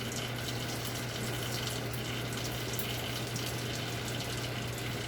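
Water runs steadily from a tap, rinsing crystal violet stain off a slide during a Gram stain, a continuous even gush with a low hum underneath and no voices.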